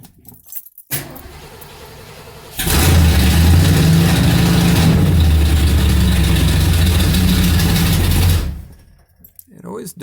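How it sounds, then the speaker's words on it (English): A 1977 Mercury Marquis engine, just after a fuel line repair, catches and idles steadily for about six seconds, then stalls into quiet. Keys jangle before it starts, and a voice is faintly heard. "You turn it on again and it'll keep idling."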